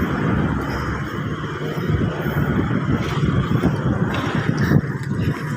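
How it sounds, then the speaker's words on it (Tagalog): Traffic on a mountain road on the way to Baguio in the Philippines, a continuous close rumble of cars passing one after another with wind noise over the microphone. "Ay, mga sasakyan, mga pauwi na sila."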